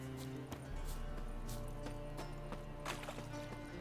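A horse's hooves clip-clopping in The Witcher 3, a steady run of close, sharp hoof strikes over game music and ambience.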